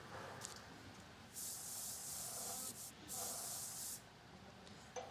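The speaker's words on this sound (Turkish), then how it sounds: "Şimdi bir de spreyimizi sıkalım." An aerosol can sprays onto a newspaper in two long hissing bursts separated by a brief pause, steady and close, with soft rustling underneath.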